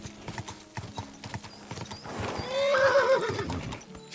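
Horse hooves clip-clop steadily in Kingdom Come Deliverance 2, then a loud, close whinny rises midway and trails off, with no talking.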